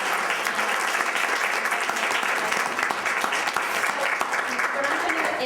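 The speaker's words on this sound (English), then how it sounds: "So if we could give a round of applause." Audience at a career lab event at a college clapping, a loud, continuous sustained round of applause from the room with no letup, with speech likely mixed into the crowd noise.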